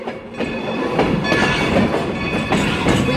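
Nevada Northern Railway train running along tracks up a steep mountain grade, a loud steady rumble with rhythmic clickety-clack of wheels over rail joints, heard close from on board with no talking.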